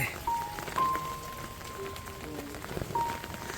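Heavy cloudburst rain with gusty wind falls by a river embankment in the Sundarbans, a fairly quiet continuous wash of patter with a few faint tonal beeps over it.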